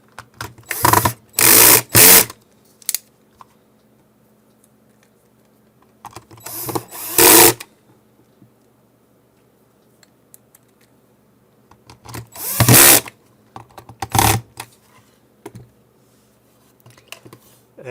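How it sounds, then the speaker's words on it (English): Screws being driven back into a Gotek floppy drive case come as three separate bursts of a small electric screwdriver whirring, each a second or two long, close and loud between quiet pauses. "Now I'll put back the screws."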